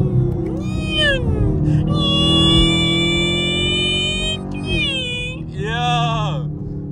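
A straight-piped Camaro SS downshifting through a tunnel: loud, continuous engine howl whose pitch sweeps up and down with each gear change, echoing and close.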